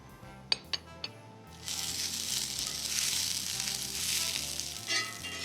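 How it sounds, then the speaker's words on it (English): Gingerbread Dutch baby batter sizzles and fries loudly in a hot buttered cast iron pan, a few light clinks of utensils first, then a steady crackling hiss that swells and holds close with background music underneath. "as soon as the batter hits the pan, we want it to get a little crusty on the bottom"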